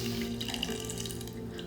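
Water runs from a tap into a pot of apple wedges, a steady, close rushing splash that lasts throughout, with no talking.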